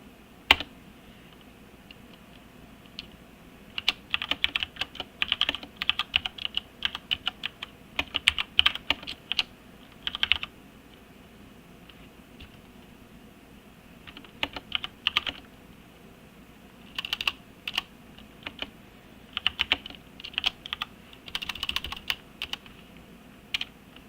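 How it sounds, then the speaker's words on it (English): Typing on a computer keyboard, quick bursts of light key clicks with pauses between runs, fairly close over a faint steady room hum, with no talking. "One second here, I'll type it out."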